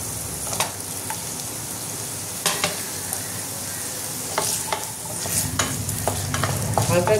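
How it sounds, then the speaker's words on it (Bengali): Potatoes frying lightly in oil in a pan while being stirred, a steady hiss with repeated clicks and scrapes of a utensil, rising toward the end. "আলুটা একটু হালকা ভেজে নেব।"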